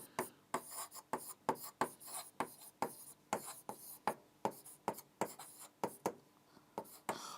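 Chalk or marker strokes on a classroom board as a maths teacher writes out the factors of 45: a steady run of short, crisp scratching strokes, roughly two per second, close and fairly quiet, with no talking.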